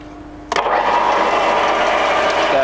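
A Stankoimport 6P82W universal milling machine's horizontal spindle starts up abruptly and runs at 500 RPM, a loud steady motor whine and drone following a sharp engagement clunk.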